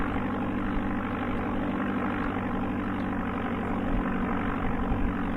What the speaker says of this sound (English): Do you recognize the engine sound there, Travis?